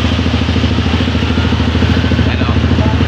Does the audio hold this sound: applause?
no